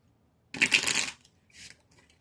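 A deck of tarot cards is shuffled once in a quick riffling burst, then a softer, shorter shuffle follows; close and otherwise quiet.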